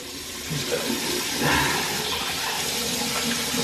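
Water runs steadily from a tap, close and fairly loud, as a beard is wetted before shaving. The flow swells briefly around the middle and keeps going without a break.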